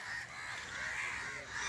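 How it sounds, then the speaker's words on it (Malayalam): A flock of crows caws together at Panchavadi beach, a dense, fairly faint chorus of overlapping calls over a constant background hiss. "ഹസൈനാരെ കണ്ടാൽ കാക്കകളും കൂട്ടത്തോടെ എത്തും"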